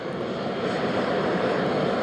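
The engines of the Special Air Mission 41 aircraft, the plane carrying President George H. W. Bush, give off a steady, loud, close roar that holds even throughout, with no voices.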